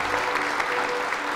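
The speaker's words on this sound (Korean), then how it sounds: "소개해드릴 때마다 큰 박수로 좀 환영을 해주시기 바랍니다" An audience at a KBS president's inauguration ceremony applauds steadily, a dense wash of many hands clapping together at moderate loudness with a faint low hum underneath.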